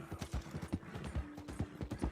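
A mule trots at a steady pace in Red Dead Redemption 2, its hooves clip-clopping in a quick, regular rhythm that stays close and fairly quiet throughout.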